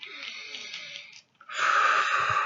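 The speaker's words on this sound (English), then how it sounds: "Let's take our deep clearing breaths." Deep clearing breaths drawn in a guided calming meditation, a long airy exhale followed by a brief pause and then a stronger, louder rushing breath, close and alone without talk.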